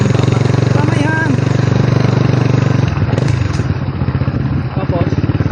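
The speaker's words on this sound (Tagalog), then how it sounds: "Iwanan natin yung motor dito." A motorcycle engine runs steadily nearby at a low, rumbling idle on a mountain trail while people talk over it throughout.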